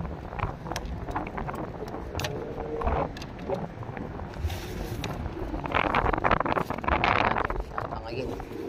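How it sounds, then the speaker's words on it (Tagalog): Strong wind gusts buffet the microphone at a bridge fishing spot, a rough steady roar that swells louder toward the end while people talk over it. "Malakas na hangin, malakas na."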